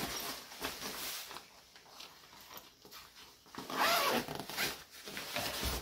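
Double zip on a tench-sized fishing retainer sling being pulled open, a run of close, scratchy zipper rasps across the whole stretch with a louder, brighter pull near the end.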